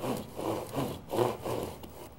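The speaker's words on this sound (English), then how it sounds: "These are sawed" A hand saw cuts through the old wooden cradle on the back of a 500-year-old painted panel, a quiet rhythmic rasp of about five strokes, alone and close.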